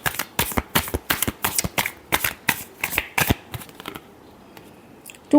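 A deck of tarot cards is shuffled in a quick series of sharp riffling snaps, about a dozen bursts in three and a half seconds, close and fairly soft, then quiet handling.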